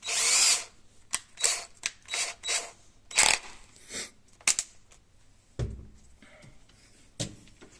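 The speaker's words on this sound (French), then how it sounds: "Donc je prends ma visseuse." A cordless screwdriver runs in several short bursts of a few seconds or less, each loud and close, separated by pauses, while a manual crank handle for a roller shutter is being replaced.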